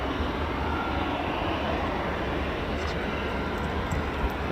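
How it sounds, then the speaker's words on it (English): Two F-16 fighter jets arriving at RAF Fairford during the Royal International Air Tattoo, a steady loud broadband jet roar that fills the whole stretch without letup, with crowd voices faintly mixed in. "2 F-16s, is it? Let's have a look."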